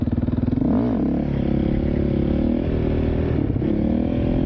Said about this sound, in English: It ain't no rev limit on here. It ain't even no rev limit on the KTM. This thing can rev like nuts.